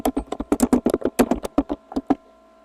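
Keys clatter on a computer keyboard in a quick, uneven burst of about twenty sharp taps, close and clear, trailing off near the end.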